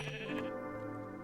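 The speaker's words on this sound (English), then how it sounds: "there are sheep right here, so I might just kill them for wool" A single short sheep bleat from Minecraft in the All the Mods modpack, close and clear with nothing else around it.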